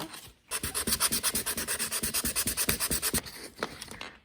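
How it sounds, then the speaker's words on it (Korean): Rapid, rhythmic scratchy strokes of sandpaper smoothing an uneven surface before gluing, while making an LED acrylic mood lamp, about twenty quick passes close up, then stopping. "그래서 이럴 경우에는 사포로 이 표면을 갈아줍니다."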